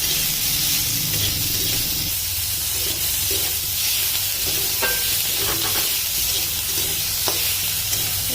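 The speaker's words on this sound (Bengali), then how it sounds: "পেঁয়াজগুলোকে বেশ লাল লাল করে ভেজে নেব" Chopped onions sizzle steadily in hot oil with a pinch of salt in a pan, with occasional stirring scrapes over the constant close frying hiss.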